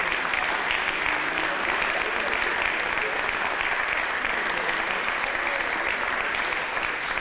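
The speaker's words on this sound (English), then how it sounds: "One last round of applause for Bob Nochi here, please." Sustained applause from an indoor crowd at the Connecticut State Capitol, a steady dense clapping that fills the room at even loudness from start to finish.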